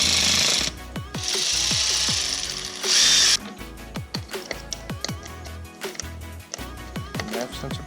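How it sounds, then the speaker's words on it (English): A ratchet socket wrench or impact tool tightens intake hose clamps on a 2017-2019 Chevy/GMC 2500/3500 6.6L Duramax L5P, with a loud sustained whirring burst and then rapid, closely spaced mechanical clicks and ratcheting strokes nearby, with no talking. "For easy installation of these clamps, you can use a 8mm socket on your wrench or your electric impact."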